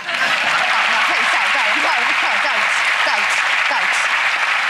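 A studio audience at a televised magic show breaks into applause, dense, loud clapping that stays steady throughout, with excited cheering voices woven through it.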